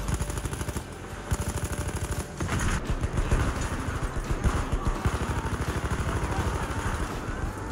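SMG-08 submachine gun fired from the hip in Battlefield 1, loud rapid bursts of automatic fire rattling almost continuously, with brief pauses between volleys and some game noise behind.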